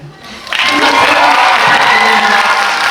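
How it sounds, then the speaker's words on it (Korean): An audience at the Busan International Film Festival, gathered for a film talk event, bursts into loud, sustained cheering and applause that swells quickly and holds at full volume. "이 정도의 함성이 나오는군요"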